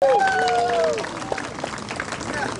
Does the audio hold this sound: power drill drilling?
no